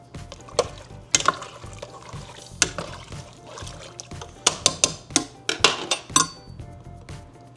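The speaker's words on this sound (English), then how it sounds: "Just for the safety of everybody, I'm gonna add a little water in." Water poured into a pot of glögg spiced wine on a stove at a deer camp, with irregular splashes and clanks of the pot and utensils, close and fairly loud, with no talking.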